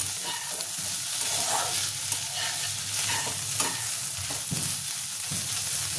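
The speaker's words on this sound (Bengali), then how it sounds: "ভালো করে মাছটা আমার পেঁয়াজটাকে একটু ভালো করে ভেজে নেব।" Dried fish and onions fry in a pan with a little oil, a steady close sizzle broken by repeated scrapes and clinks of a spatula stirring, with no talking.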